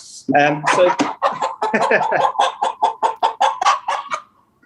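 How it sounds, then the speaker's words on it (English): A chicken clucks steadily and close, a rapid string of short throaty clucks that starts with a louder squawk and trails off. "So that's your more standard chicken."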